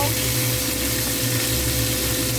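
Onion paste goes into a hot pan of frying spices for a Bengali sorputi fish curry, giving a loud, continuous close sizzle with no pauses or talk.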